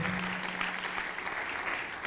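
Audience applause at a Campus Party entrepreneurship event, a dense, continuous round of clapping filling the hall for the whole moment, with a brief voice underneath at the start.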